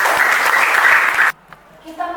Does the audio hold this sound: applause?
yes